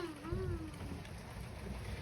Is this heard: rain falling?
yes